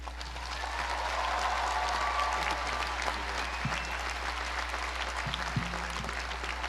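Audience applause welcoming Denzel Washington at the University of Pennsylvania, a large crowd clapping steadily for several seconds, swelling then holding, with a low hum underneath.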